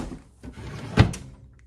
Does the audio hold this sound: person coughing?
no